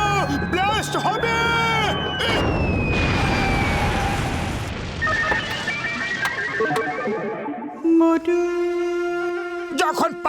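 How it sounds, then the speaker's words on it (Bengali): Cartoon explosion from two chemicals mixing in a Motu Patlu episode, a loud rumbling blast with crackling debris mixed with shouting voices and cartoon sound effects, followed by musical tones. "ব্লাস্ট হবে।"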